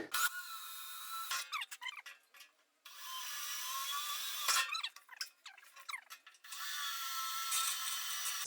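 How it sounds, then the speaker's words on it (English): Self-tapping screws driven into a generator fuel tank with a power driver, in several bursts of whirring and grinding separated by short pauses, close and fairly quiet. "Self-tapping screws."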